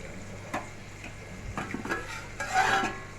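Paneer curry cooking in a pot on the stove, with soft bubbling and sizzling under intermittent metal clinks and scrapes from stirring, quiet and close.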